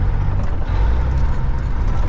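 Freightliner FLD120 truck with a remanufactured transmission downshifting on the road, a loud close low engine drone with shifting pitch and a brief dip as gears change.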